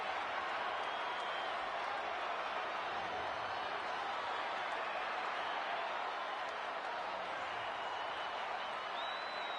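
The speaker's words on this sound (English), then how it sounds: "The crowd is fired up, waiting to hear what he's got to say." A large crowd in a wrestling video game roars and cheers continuously at a steady, fairly loud level, with no break in the noise.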